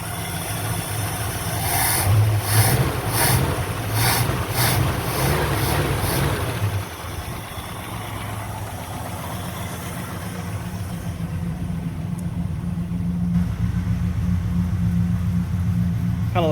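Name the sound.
1958 Plymouth V8 engine idling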